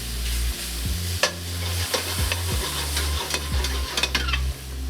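Chili, cumin, paprika and grated garlic fry in a pan with a steady loud sizzle, broken by repeated scraping stirs and a few sharp utensil clinks against the pan; no one speaks.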